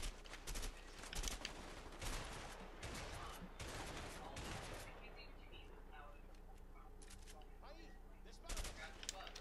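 Gunfire in the video game A Way Out: rapid bursts of shots and volleys crackle through the first half, then thin out to scattered shots over a steadier background, with voices talking underneath.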